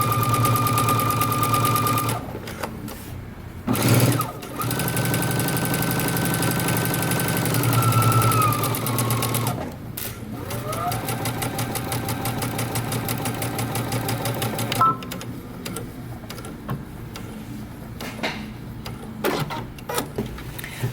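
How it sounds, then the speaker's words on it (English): Sewing machine stitching a jeans seam at a 5/8 inch seam allowance, a steady close mechanical hum and rapid needle clatter running for long stretches, broken by a few brief stops. "we're going to stitch across using 5/8 of an inch seam allowance"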